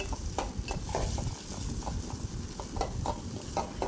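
Onions and green chillies frying in a pan, stirred in quick repeated scraping strokes over a continuous sizzle, close and with no talk.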